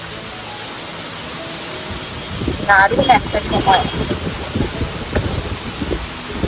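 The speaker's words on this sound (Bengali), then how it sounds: "দেখো বৃষ্টি পড়ছে, বোঝা যাচ্ছে।" Steady rain falls outdoors by a street lamp post, a continuous hiss of drops close by, while a person talks over it for much of the stretch.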